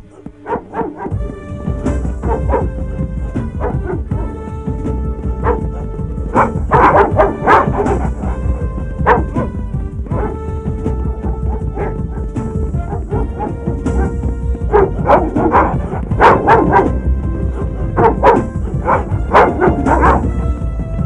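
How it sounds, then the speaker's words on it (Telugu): Several dogs bark and yip repeatedly in bursts, with some whimpering, loud and close over a busy background during a search scene from a Telugu film. "కుక్కలు వదలడు రా"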